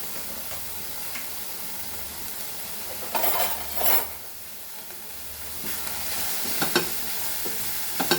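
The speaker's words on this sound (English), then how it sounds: "I'm frying this onion." Onion dry-frying in a pan with no oil over low flame, a steady soft hiss with a few louder stirring bursts, close and alone.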